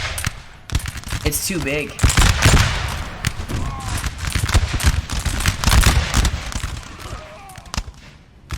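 Musket volleys and artillery fire in a Napoleonic Total War 3 battle between France and Portugal crackle in rapid, overlapping bursts with heavier booms, loud and continuous, while someone speaks briefly over the din.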